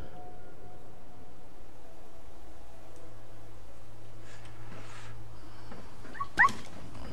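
Dog companion whimpering in the video game Fallout 4 inside the Corvega assembly plant, a faint whine over a steady low ambient hum, with one brief sharp sound near the end.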